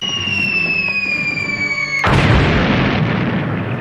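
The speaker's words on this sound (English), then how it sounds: "Photon torpedoes locked on, Captain. Fire all banks." Photon torpedoes fire from a starship in the original Star Trek series, with a steady electronic tone giving way to a loud, sustained rumbling blast.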